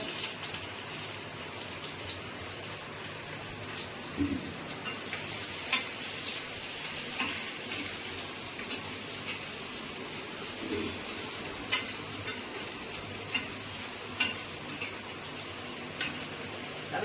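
Chopped onions frying in mustard oil make a continuous close sizzle with a rain-like patter and occasional soft stirring clicks throughout.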